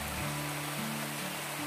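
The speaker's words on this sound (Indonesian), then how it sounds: "kondisi di pagi hari hujan sahabat" Steady morning rain falls at a swamp during eel fishing, a faint, even hiss of drops with a low constant hum beneath and no voices.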